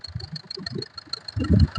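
A diesel car engine idles with a low, lumpy rumble that grows rougher and louder toward the end, brief and close.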